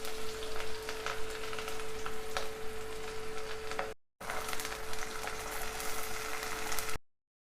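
Green chillies and onions fry in hot oil with a steady, dense sizzle and a low hum, close and continuous, then briefly broken and cut off.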